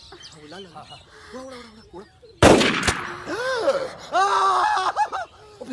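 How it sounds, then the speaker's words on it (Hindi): A single sharp gunshot cracks out loudly and close by, with people talking excitedly before and after it. "गोली चल गई।"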